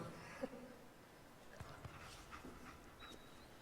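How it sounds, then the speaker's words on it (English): A dog in the Fallout 4 video game pants softly in a steady rhythm, faint and close amid quiet game ambience, with a few small clicks and a brief whine. "Oh, look, it's a dog!"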